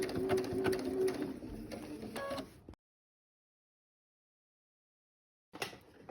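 A sewing machine back stitches through quilt binding, running in a steady mechanical burst for about two and a half seconds before stopping, followed by silence and a brief faint rustle at the end.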